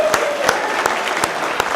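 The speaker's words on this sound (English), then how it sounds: "A big round of applause for all those that do great work" Steady round of applause from a large audience at a college colleague awards ceremony, with sharp periodic claps standing out above the continuous clapping.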